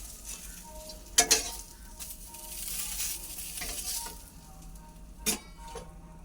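Fish frying in a pan, a continuous hissing sizzle that swells and fades, punctuated by a couple of sharp metallic clinks of a utensil against the pan, close by with no voices.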